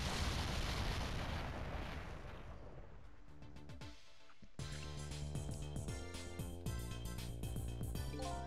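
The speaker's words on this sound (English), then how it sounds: "I think I heard an explosion somewhere." A roaring explosion in the video game Ghost Trick: Phantom Detective, set aboard a submarine, rumbles loudly and fades over about four seconds before game music takes over.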